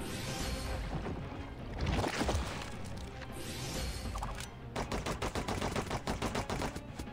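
Rapid gunfire from the video game DC Worlds Collide, loud and continuous amid other game noise, turning into a fast, evenly spaced automatic burst in the second half.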